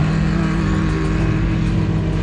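Engine of a Can-Am 1000 G1 side-by-side at the Klerksdorp 150 off-road race, a loud continuous close drone with a rough, steady tone and no break.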